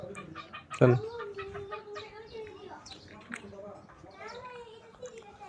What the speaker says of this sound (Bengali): ওই যে মুরগি দেখছেন মুরগি এখানে মুরগি